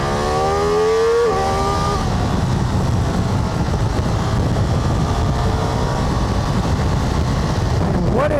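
Ducati Multistrada V4 RS sport-touring motorcycle riding on a road and leaning through corners, its engine a steady loud drone with a rising rev at the start and a brief pitch sweep near the end, wind rush throughout.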